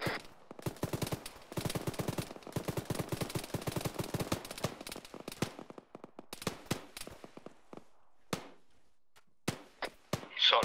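Video game gunfire from ARMA 3 crackles in dense rapid bursts that sound like machine-gun fire, then thins out to scattered single shots spaced further apart.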